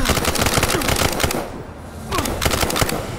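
Gunfire in the tactical video game Narcos: Rise of the Cartels, a dense burst of sharp repeated shots with a brief lull before the firing resumes.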